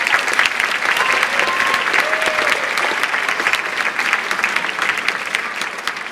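A school band night audience applauds the band with loud, dense, steady clapping that holds evenly from start to finish.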